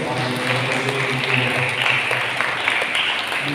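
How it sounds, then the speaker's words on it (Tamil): A church congregation clapping during a Sunday Mass, a sustained, even patter of many hands filling the room, with some faint voices and low tones underneath. "அவர்களுக்கு கைத்தட்டி நம்முடைய பாராட்டுகளை சிறப்பாக"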